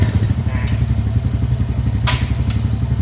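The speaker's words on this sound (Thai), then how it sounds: "เครื่องยนต์ติดเข้าเกียร์หนึ่ง" A motorcycle with an automatic clutch runs in first gear close by, a steady low engine drone throughout with a couple of brief mechanical clacks and thumps on top.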